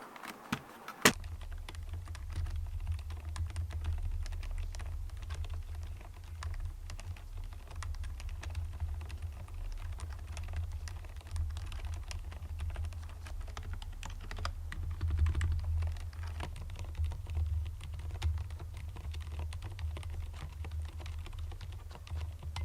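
Typing on a purple and pink wired Mstone mechanical keyboard, a close, steady stream of clacky keystrokes with occasional louder key hits, alone and continuous.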